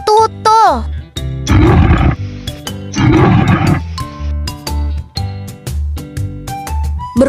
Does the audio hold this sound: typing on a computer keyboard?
no